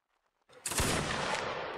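Musket gunfire in the Napoleonic-era game Mount & Blade: Warband Napoleonic Wars, during a skirmisher fight: after a near-silent half second, a loud burst of shots erupts and rolls on as a sustained volley.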